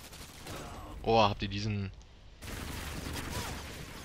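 Gunfire in the Modern Warfare 2 video game, a dense crackling burst of shots heard under and after someone speaking German, continuous and moderately loud.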